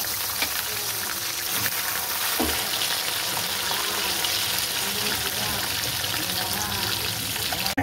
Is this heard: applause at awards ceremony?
no